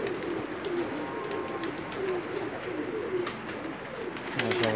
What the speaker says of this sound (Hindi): कबूतरों को खुले छोड़े हुए थे, अभी शाम का टाइम में उतर रहे हैं